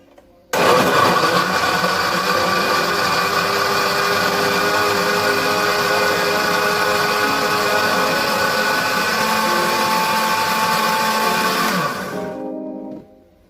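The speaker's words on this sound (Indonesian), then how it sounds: "Lalu tutup dan blender." A kitchen blender runs continuously at high speed, puréeing purple sweet potato with coconut milk and water; loud steady whirring motor starts abruptly and cuts off near the end, leaving a short winding-down tail.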